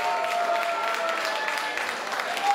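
Audience applause and some cheering for a performer at a live music awards show, a loud, dense crowd of clappers with a faint tonal ring from the stage, steady throughout.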